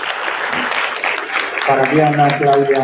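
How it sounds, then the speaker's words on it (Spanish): An audience at a talk on gender perspective in journalism claps steadily for a couple of seconds before a voice speaks over the fading applause. "Un aplauso, por favor,"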